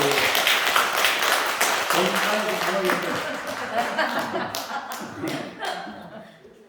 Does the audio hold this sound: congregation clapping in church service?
yes